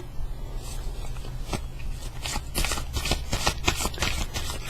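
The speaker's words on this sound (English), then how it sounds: "I have shuffled the cards before. Let's cut the deck." A deck of tarot cards riffles and shuffles with quick, papery flutters, close up, followed by a handful of brisk snaps as the deck is cut and handled.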